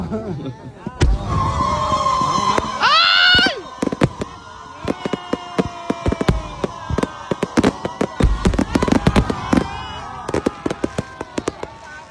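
Fireworks crackle and pop in rapid bursts, with a rising whistle early on, while people talk and shout nearby.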